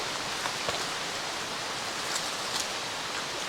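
Steady rain falls in a continuous hiss, with a few louder drops pattering close by.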